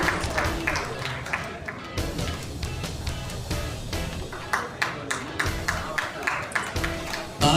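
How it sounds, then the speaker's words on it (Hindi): An audience at a seminar marking International Jat Day in Vasant Kunj applauds, a dense run of crowd clapping with sharper individual claps standing out, sustained throughout. "तालियां जोरदार हो जाएं सभी के सम्मान में"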